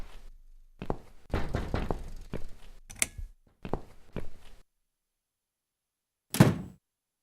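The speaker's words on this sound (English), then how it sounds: "Someone's at the door." A door being knocked on in the video game The Cat Lady, heard as several clusters of firm, close thuds separated by short pauses, then a single louder knock after a silent gap.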